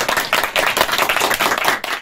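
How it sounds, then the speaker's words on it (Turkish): A family at home claps and applauds in front of the television as a space capsule splashes down in the ocean, steady dense hand claps close by for the whole stretch, with no talking. "alkışlarla kutladı o anı"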